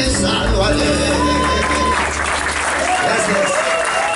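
An audience at a folk music program breaks into dense, sustained applause, loud and close throughout, with voices mixed into the clapping.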